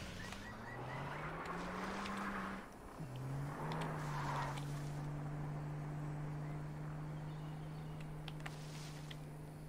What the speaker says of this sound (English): I hear a car getting in the bush.